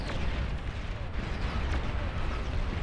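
Dense, continuous rumble of artillery fire and distant booms in the strategy game Beyond All Reason, an 8v8 battle, with overlapping blasts and crackles sustained throughout at steady loudness.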